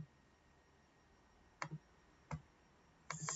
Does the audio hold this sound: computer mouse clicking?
yes